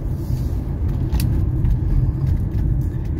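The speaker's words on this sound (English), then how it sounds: "I'm just going to mash the throttle right here from a stop" A 1985 Mercedes 300CD pulls away from a stop up a steep hill under full throttle, with a steady, loud low engine rumble heard from inside the car, no one speaking.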